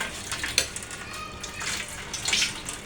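A steel spoon is rinsed under a running kitchen tap while cooking aloo matar methi, with steady splashing water and a few faint clinks close by and no talk.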